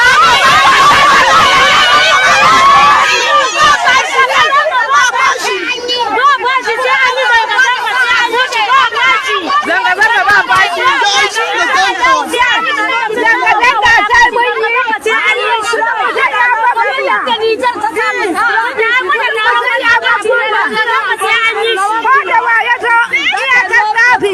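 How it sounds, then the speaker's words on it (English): An angry crowd of protesters fills a street in Abuja, Nigeria, with loud, dense overlapping voices, shouting and excited chatter, close and continuous throughout. "what an angry crowd there in the FCT, a shameless angry crowd"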